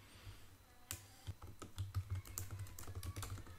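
Keys clatter on a computer keyboard as an address is typed into a web page builder, a steady run of crisp close clicks in uneven bursts with no voices.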